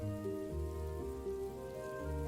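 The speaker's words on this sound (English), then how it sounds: "Here comes the rain again." Steady rain effect pattering under a tabletop fantasy role-playing session, a continuous close hiss of drops with a droning musical bed running beneath it and no voices.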